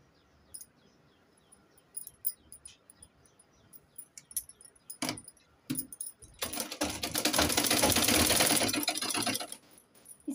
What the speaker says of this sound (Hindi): इसी तरह से पूरी सिलाई लगा लेंगे चारों में।